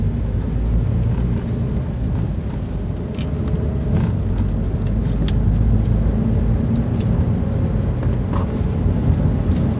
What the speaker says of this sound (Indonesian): Kita harus berhati-hati, waspada karena agak lumayan padat kendaraan.